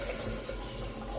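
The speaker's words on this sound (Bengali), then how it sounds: "জল দিয়ে দিলাম," Water poured into a cooking pot while making a lunch dish, a brief steady gushing splash close by.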